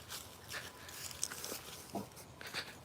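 A dog barks a few short, faint times outdoors during garden work with a potted garcinia tree, with background noise and no speech.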